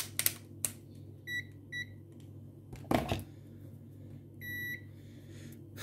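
A continuity tester beeps while probing a broken coax antenna connector on a Tesla smart TV, sounding short, faint electronic tones in small groups, with clicks and handling noise from the probes and connector in between.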